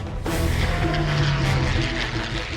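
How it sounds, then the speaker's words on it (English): American bombers diving to attack a carrier fleet in the 1942 Battle of Midway: a loud, sustained aircraft engine roar with droning propeller tones and rumbling booms throughout. "As the American bombers dived into action"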